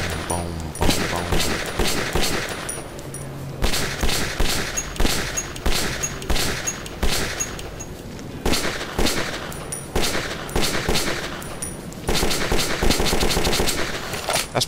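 Gunfire from a weapon in the Metro 2033 shooter game, with repeated loud bursts of rapid automatic shots separated by short pauses, steady and close throughout.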